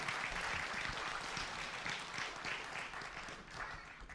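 A festival concert audience applauds in a steady, dense wash of clapping that fades a little toward the end, with no talk over it.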